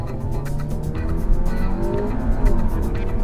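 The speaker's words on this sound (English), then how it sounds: "What I did was I revved the engine" A front-wheel-drive automatic 2015 Audi A3 launches hard from a standstill, its engine roaring loudly and continuously, heard close up with a little tire noise and no voices.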